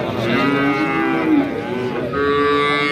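Cattle at a livestock market low loudly and close, one long drawn-out moo after another with a brief break between them, over a murmur of the surrounding crowd.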